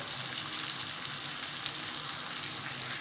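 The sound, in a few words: potatoes frying with chilli, coriander, turmeric and salt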